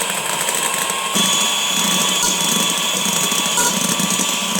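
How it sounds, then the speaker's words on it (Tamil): Egg whites being beaten to soft peaks with an electric mixer for pavlova, a loud continuous motor whir that rises in intensity after the first second and holds steady. "இந்த வெள்ளைக்கருவை நம்ம ஊற்றிக்கலாம். பொறுமையாக நல்லா பீட் பண்ணிக்கணும், சாஃப்ட் பீட் வர வரைக்கும்."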